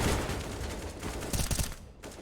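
Rapid bursts of gunfire from a Counter-Strike match at a professional esports tournament, dense overlapping shots with a sharper cluster near the end, set against continuous game noise.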